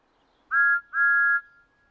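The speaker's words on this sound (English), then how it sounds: "He's blowing his whistle." Thomas the Tank Engine's steam whistle gives two clear, pure toots in quick succession, the second slightly longer, loud and close against near silence.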